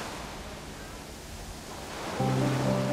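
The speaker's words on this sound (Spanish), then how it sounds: "Ese sonido que crea el mar" Sea waves washing in a soft, continuous wash of noise, moderately faint and even, with a steady hum briefly joining near the end.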